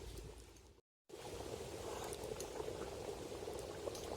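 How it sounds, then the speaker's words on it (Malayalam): Biryani pot with lemon juice and ghee coming to a boil, a dense bubbling burble, quiet and close, briefly cut to silence near the start before the steady boiling resumes. "ഒന്ന് തിളച്ചതും നമുക്ക് ദമ്മിടാം. ഇതൊന്ന് തിളയ്ക്കട്ടെ."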